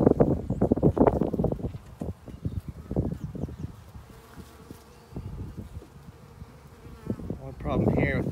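Honey bees buzzing around a hive, a steady close insect drone with some wind noise on the microphone and faint knocks and rustles, no talking.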